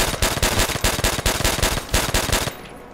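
Automatic gunfire in Call of Duty: World at War's Nazi Zombies mode, a loud, rapid burst of repeated shots in quick rhythmic pulses lasting a couple of seconds before cutting off to quiet.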